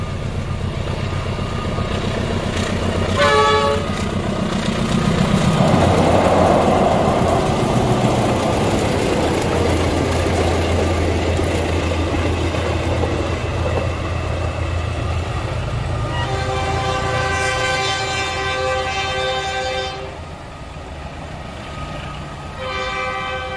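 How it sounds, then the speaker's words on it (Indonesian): An express passenger train, just departed from a nearby station, rumbles across a railway bridge, loud and continuous throughout, with horn blasts sounding near the start and again toward the end as the roar gradually eases. "Ekspresnya baru melintas lepas dari stasiun tebing tinggi."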